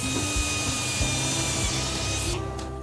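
A power drill whines steadily and loudly, drilling holes through a hard helmet mould for visor mounts, with a few brief dips before cutting out near the end.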